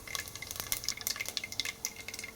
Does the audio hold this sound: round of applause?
no